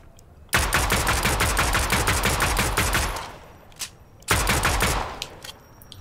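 Rapid combat pistol fire in Fortnite, a dense burst of shots lasting about two and a half seconds, a lone shot, then another short burst, loud and close.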